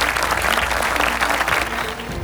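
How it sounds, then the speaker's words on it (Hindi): Sustained audience clapping at a live event, steady and dense throughout, with no voices standing out above it. "मैं आपके सम्मान में तालियां बजाना चाहता हूं।"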